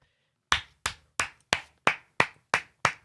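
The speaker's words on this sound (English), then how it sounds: "I gotta clap. I gotta get them a clap, man." A lone person claps eight times in a steady, evenly spaced rhythm, each sharp, close clap ringing briefly, while watching the Jamaica women's national football team, the Reggae Girlz, play Dominica.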